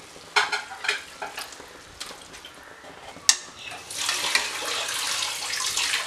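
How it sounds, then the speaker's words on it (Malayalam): Kerala-style sardine roast in a pan: a few utensil clicks and scrapes, then water poured into the hot fish masala sets off a loud, sustained sizzle that lasts to the end. "ഇതിലേക്ക് ഒരു അല്പം വെള്ളം ഒഴിച്ച് കൊടുക്കുക"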